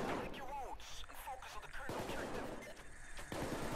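Gunfire in Payday 2 crackles in rapid bursts and scattered shots, mixed with game effects and a voice speaking Czech over the top, loud and busy throughout.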